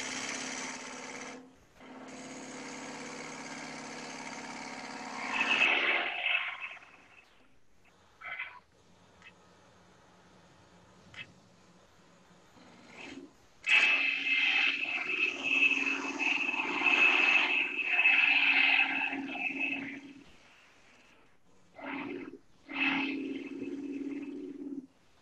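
A wood lathe spins while a small pet urn is turned, giving a steady whirring drone with bursts of higher-pitched cutting noise that stop and restart across the clip, alone without talk.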